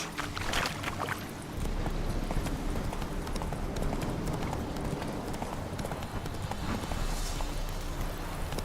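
Roach, Geralt's horse in The Witcher 3, gallops with steady, rhythmic clip-clop hoofbeats over soft ambient game sound, moderately close and continuous throughout.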